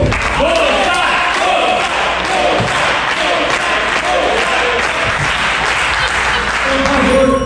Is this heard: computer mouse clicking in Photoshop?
no